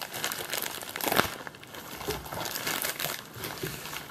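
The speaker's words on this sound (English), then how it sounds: "I'm gonna unwrap it now. It comes in plastic and bubble plastic." A drone frame being unwrapped from plastic and bubble wrap, with close continuous crinkling and rustling of plastic that swells and fades over a few seconds, no speech.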